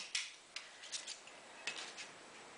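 A carpet cutter slicing out a paper window, with a few sharp, close scratchy cuts and taps spaced through a quiet room.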